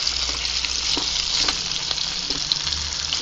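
Chorizo, onion, tomato and chile fry in a pan, giving a steady close sizzle with scattered crackles and soft stirring scrapes throughout, with no talk over it.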